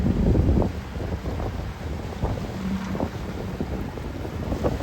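A small wooden fishing boat runs along the coast through rough, swelling seas. Steady low rumbling and wind buffeting carry on throughout, loudest at the start.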